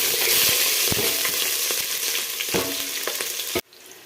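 Onions frying with whole spices in a pan for vegetable pulao, a dense loud sizzle with scattered stirring clicks that cuts off abruptly near the end, heard close with no voices.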